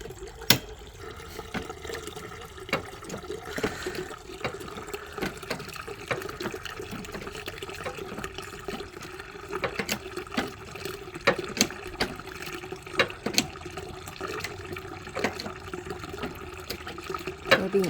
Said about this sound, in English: They're being squeezed and squashed, and it drips very, very nicely